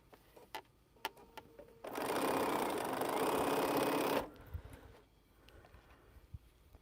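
A sewing machine stitches mini quilt pinwheel blocks in one burst of a little over two seconds, close and steady, framed by quiet handling clicks before and after.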